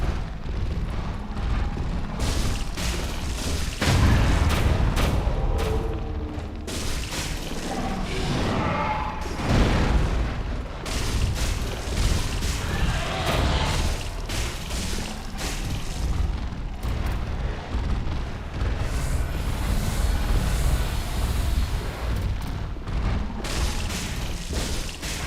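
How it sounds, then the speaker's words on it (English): Bombs burst over and over in Dark Souls 3, a near-continuous run of heavy booms and crashing impacts with rumbling low end, loud and dense for the whole stretch. "we just throw some bombs in through"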